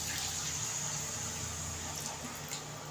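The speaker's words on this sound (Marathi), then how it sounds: "आपल्याला गरम पाणी ओतायचं आहे मस्त असं" Hot water poured into a pan of dried green peas curry, a continuous rushing, splashing flow close by, fairly steady throughout with faint sizzling underneath.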